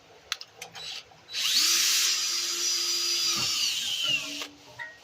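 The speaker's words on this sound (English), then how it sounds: "Now let's start drilling this hole." A drill bit bores out a broken bolt in a Dodge Charger backing plate: a high whine spins up after a few faint clicks, holds steady for about three seconds, then winds down.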